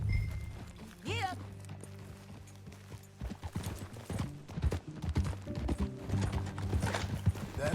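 Horse hooves clip-clop in a steady walking rhythm in the Red Dead Redemption 2 video game, with a brief whinny near the start and game voices talking over the hoofbeats.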